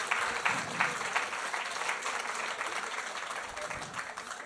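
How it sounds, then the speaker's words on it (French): An audience claps at the close of a French conference session on alcohol risk reduction, sustained applause filling the room at steady strength throughout. "C'est elle qui fait applaudir."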